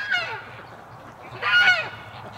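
Ducks honk and quack close by in a yard as they are let out, with two loud bursts of calling, one at the start and a stronger one near the end.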